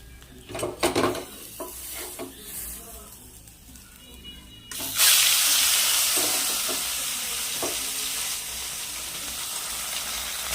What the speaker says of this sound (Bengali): বন্ধুরা সব মাছ দেওয়া হয়ে গেছে আর এই মাছগুলোও ভাজা হয়ে গেছে